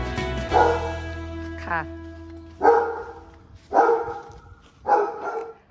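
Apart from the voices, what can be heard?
dog Drogba barking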